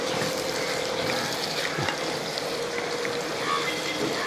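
Dragon chicken gravy is stirred in a pan right after vinegar goes in, giving a steady close sizzle and bubbling with a few soft scraping strokes, no voices.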